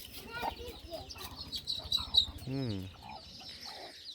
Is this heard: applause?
no